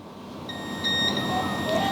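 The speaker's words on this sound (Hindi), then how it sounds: "देखो यहाँ पर बीप आ रहा है" Continuity beep from a multimeter probing the board of a dead Samsung Galaxy S8 during repair, a steady high electronic tone starting about half a second in and holding to the end, over a low background hum with faint speech.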